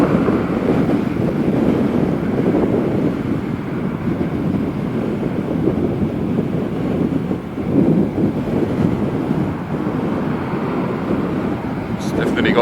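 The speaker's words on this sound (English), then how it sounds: "the only thing you can hear is the wind" Steady broadband wind rush on the MacRais Z8X, a 19 kW electric motorcycle, at speed, loud and continuous with no engine note beneath it.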